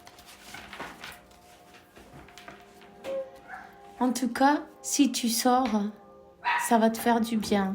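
A dog barks in short bursts in the second half, loud against an indoor room, under and between someone speaking French.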